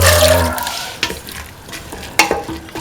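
Lentil stew being stirred in a pot while it sautés, loud scraping and sloshing strokes with sharp clatters of the spoon against the pot, close and under a light sizzle.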